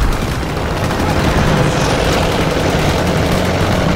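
Bomber aircraft roar overhead during an airstrike in the World War II shooter Call of Duty WW2, a loud, dense, continuous engine drone mixed with rumbling gunfire and explosions, with no voices.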